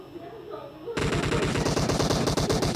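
Rapid automatic gunfire in a video game shooter erupts after a quiet opening and keeps up as a dense, loud, continuous burst of rapid shots.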